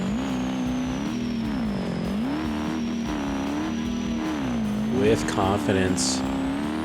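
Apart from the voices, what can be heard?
truck engine revving in mud in BeamNG video game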